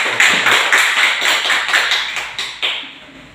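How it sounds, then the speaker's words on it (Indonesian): A classroom of students applauds a presenting student group during a micro-teaching lesson, a quick run of hand claps that starts briskly and thins out over about three seconds. "beri aplaus untuk kelompok 2 dan kelompok 1"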